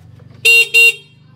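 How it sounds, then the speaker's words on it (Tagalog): Two short, loud car horn beeps sound in quick succession, close by, with a faint engine hum underneath, from a newly switch-wired horn on an NWOW EMC Golf electric vehicle. "So pag pinrest up mo ngayon to, yan, may busina ka na."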